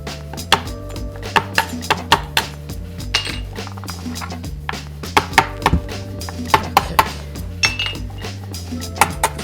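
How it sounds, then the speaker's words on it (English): Dried lemons (limoo amani) are pierced with holes for a Persian herb stew, giving sharp, irregular clicks and knocks against a hard kitchen surface, close and fairly loud over a faint steady hum. "we create holes in this lemon amani"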